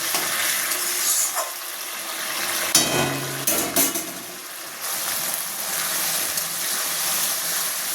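Potato and egg curry simmering down with added water in a pan, a soft continuous bubbling sizzle with a brief burst of clatter and stirring in the middle, no voices.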